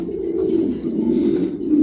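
Pigeons at a winter wholesale pigeon sale coo in a steady low, rolling murmur that runs unbroken through the moment, close and fairly loud with no talking over it.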